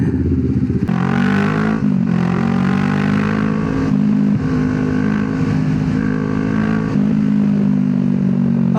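Kawasaki Z650 motorcycle idling and revving with its exhaust resonator removed, a loud, close, throaty drone with repeated throttle blips and deep rumbling pulses, heard alone.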